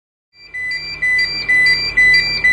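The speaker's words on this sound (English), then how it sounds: "what you can see here is we've gone to alarm level one" CO2 storage safety alarm at level one, with a relay-controlled fan, sounding a loud steady electronic tone that pulses in even beats about every half second after a brief silent start.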